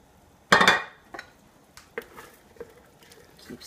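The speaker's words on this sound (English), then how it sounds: "Keep stirring." Spoon clanking against a pot while New England clam chowder is stirred, one loud clatter followed by several lighter, scattered knocks and scrapes, close and without talk.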